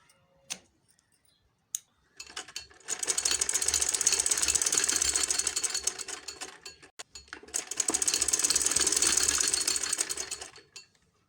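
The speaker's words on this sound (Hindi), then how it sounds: "जो एक्स्ट्रा पट्टी है उसको इस तरह से फोल्ड करते हुए सिलाई लगा लेंगे" Sewing machine stitching a folded extra fabric strip on a front-zip kurti, two long bursts of rapid, steady mechanical whirring and needle chatter, preceded by a couple of isolated clicks and separated by a brief pause.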